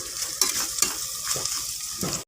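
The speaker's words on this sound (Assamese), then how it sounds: "মই পানীটো শুকাবলৈ দিম আৰু ভালদৰে ভাজ খাব দিম।" Carrots and French beans fry in oil in a pan with a steady close sizzle, while a few stirring scrapes sound over the top and no one speaks.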